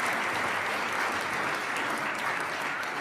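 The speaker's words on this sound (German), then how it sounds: "Einen großen Applaus für unseren Handyanlasser Pablo" A studio audience applauding on a German TV show, a dense, even wash of clapping that holds steady for about three seconds with no pause.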